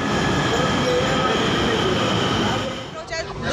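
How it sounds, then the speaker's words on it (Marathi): A Pune Metro train at Garware station rumbles steadily and loudly with a continuous rail roar, easing slightly near the end; faint voices may sit beneath the train noise. "चला तर मग मेट्रोचा प्रवास करूया।"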